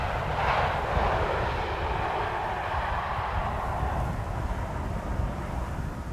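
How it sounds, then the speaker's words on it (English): A Transavia airliner lands at Amsterdam Schiphol on a sunny day without deploying thrust reversers, giving a steady, moderately loud jet engine roar with broadband rumble that holds evenly throughout, no voices. "This is Transavia. Not using the reversers for a change."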